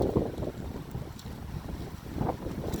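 Gusty wind buffeting the microphone with a low rumbling roar that swells and eases throughout, with faint surf beneath and no talking.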